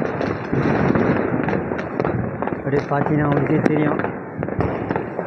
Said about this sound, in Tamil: பட்டாசுலாம் வெடிச்சிட்ருக்காங்க